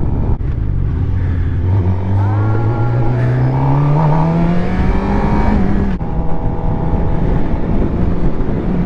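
A motorcycle is ridden, its engine droning loud and close with a rising, shifting pitch as it accelerates, then a brief dip before settling into a steady hum under wind noise.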